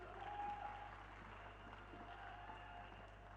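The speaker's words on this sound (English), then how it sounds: "please give her another big round of applause as she comes on stage" Audience at a plenary session of a restoration forum applauds as a speaker walks on stage, a steady, fairly faint wash of many hands clapping that holds evenly throughout.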